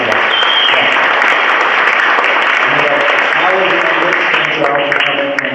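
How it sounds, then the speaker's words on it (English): A crowd at a community open house breaks into loud, continuous applause that holds at a steady level, with some voices mixed under the clapping. "A big applause for that."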